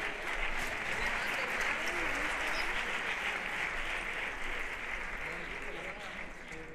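Loud, dense applause from a live audience at a Spanish juvenile cuarteto carnival performance, continuous clapping with some shouting sustained throughout at steady strength.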